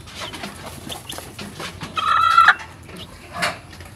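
A mother hen with her newly hatched chicks, giving soft clucks and small calls, with one louder, sustained call in the middle and another brief call near the end.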